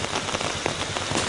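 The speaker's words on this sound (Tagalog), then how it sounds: "Biglang bumuhos ang malakas na ulan." Heavy rain pours down steadily, a dense, loud hiss of drops drumming on a surface with no pauses.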